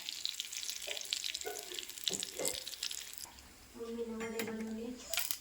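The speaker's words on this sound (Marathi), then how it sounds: "चटणीला फोडणी टाकते. मोहरी आणि कढीपत्ता." Hot oil crackles and sputters in short bursts as mustard seeds and curry leaves temper for chutney, with brief voices talking in between and a tonal hum near the end.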